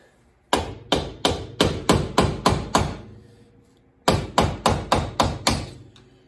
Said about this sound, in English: I'm just using a screwdriver to break this loose.